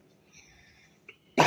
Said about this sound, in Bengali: তো আমি কাশি দিলাম